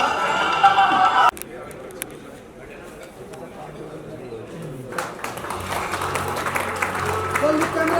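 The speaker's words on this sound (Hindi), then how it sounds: "तालियां बजती रहे, जोर से बजे, ताकि मंच पर जो है उनको भी उत्साह मिले।" Audience clapping at a journalism awards ceremony, a steady crowd patter that breaks off, drops to a quieter stretch of room noise and voices, then swells back up with a mix of talking.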